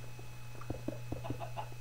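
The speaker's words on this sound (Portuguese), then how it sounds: "Uma galinha, sai." A Minecraft chicken gives a few short, soft clucks in quick succession, quiet and close, with no talking.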